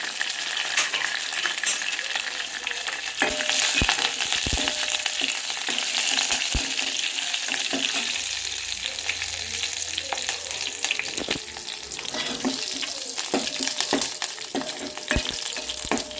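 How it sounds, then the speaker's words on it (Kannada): Crushed garlic, mustard seeds and curry leaves fry in a pan for a village-style dal sambar, giving a steady, close sizzle with scattered pops and crackles. The sizzle runs throughout with no talking. "ಜಜ್ಜಿಟ್ಟಿರೋ ಬೆಳ್ಳುಳ್ಳಿ, ಸಾಸಿವೆ, ಕರಿಬೇವು ಹಾಕ್ಕೊಂಡು ಸ್ವಲ್ಪ ಬಾಡಿಸ್ಬೇಕು."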